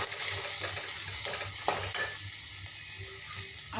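A spoon stirs a spice mix with coriander powder in a hot pan, a steady soft sizzle with scraping strokes running throughout, with no voices.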